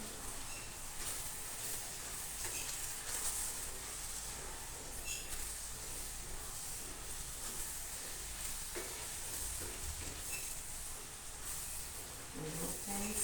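Steady sizzling in a hot pan with scraping and stirring sounds, continuous and close, no talking.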